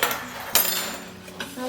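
A utensil scraping and clinking against a bowl while dry cornbread ingredients with cinnamon and salt are mixed, a few close knocks and taps with softer scraping between them.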